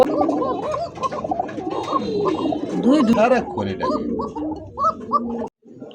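Pigeons coo in deep, throaty, bubbling calls that repeat and overlap close by, with a person talking over them.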